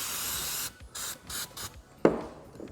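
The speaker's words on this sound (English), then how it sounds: "give it a bit of a spray" Short bursts of degreaser spray hissing from an aerosol can onto a ball joint seat, several separate pulses with brief pauses, close and fairly loud, followed by a sharp clack.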